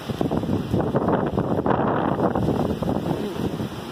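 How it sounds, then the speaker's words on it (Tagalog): Strong typhoon wind roars across a microphone outdoors in Angeles City, Pampanga, Philippines, a loud continuous rumbling gust with buffeting surges throughout and no talking. "lakas ang hangin doon"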